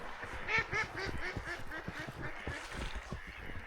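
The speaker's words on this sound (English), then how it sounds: "This is like a nightclub for mallards." Mallard ducks quacking in a winter outdoor setting, a flock of rapid, overlapping nasal quacks repeating in quick bursts, faint and a little distant.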